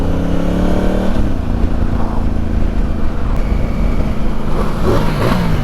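A Ducati and a Honda Africa Twin ride out at a bikers' breakfast meet with loud, close engine revs, the pitch rising and falling as the bikes accelerate and pass.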